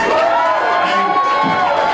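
A crowd at a film festival announcement event cheers and shouts for a named filmmaker, a dense, steady roar of many voices lasting the whole moment.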